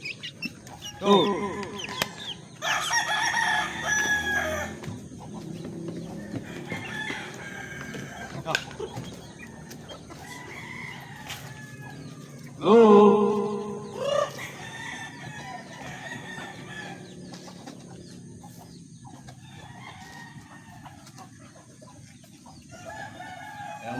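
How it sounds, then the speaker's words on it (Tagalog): Chickens cluck and squawk close by, with a rooster crowing partway through, while a person talks intermittently. "Natataranta na ang ating mga manok para sa ating pagkain."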